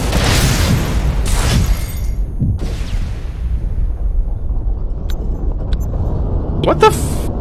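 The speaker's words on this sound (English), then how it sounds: "Watch out for the nade!" A grenade blast in the online shooter Ghost Recon Phantoms, a loud boom with a crackling tail that rises out of dense gunfire and battle noise, with further impacts close by.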